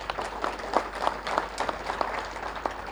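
An audience applauds at a youth talk program, clapping steadily with scattered individual claps standing out over continuous crowd noise for the full stretch, moderately loud and without speech.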